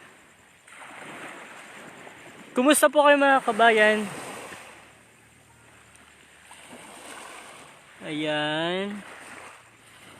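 Sea waves washing against the shore at Barangay Buangan in Torrijos, Marinduque, a steady soft surf hiss that continues beneath a voice speaking close by.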